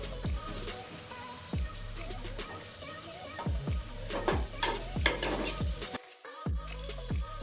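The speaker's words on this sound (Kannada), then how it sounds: "ಇದನ್ನು 1 ನಿಮಿಷ ಫ್ರೈ ಮಾಡಬೇಕು" Paneer biryani masala frying in a pan, where repeated rhythmic spatula scrapes and clinks ring against the metal over a low sizzle, close up, and a brief silent gap comes near the end.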